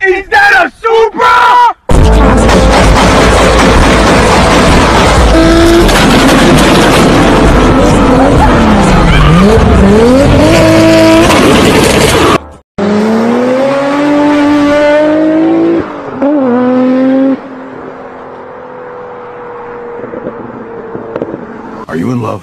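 A Toyota Supra engine revs hard and loud with possible tire squeal, mixed with crowd yelling and voices, the roar holding steady before a cut to a higher-pitched rev.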